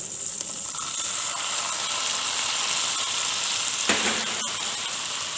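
Par-boiled potatoes fry in melted butter in a pan, giving a steady loud sizzle with brief stirring scrapes from a wooden spatula partway through.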